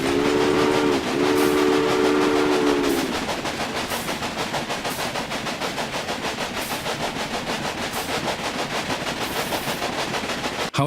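A steam train in the game Railway Empire blows a two-part whistle, then runs along the rail line with a fast, steady rhythmic clatter of wheels and chuffing, loud and unbroken for the rest of the clip.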